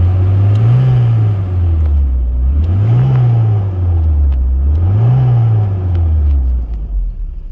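A Volvo 740 Turbo with a B230FT intercooled engine revs repeatedly toward about 2000 rpm, three smooth rising-and-falling swells over a deep loud drone, recorded close with no talk.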